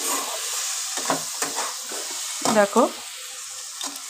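Vegetables, including carrots, fry in a pan for vegetable chow mein with a continuous sizzle, broken by a few louder bursts of stirring and scraping. Someone speaks briefly over the cooking.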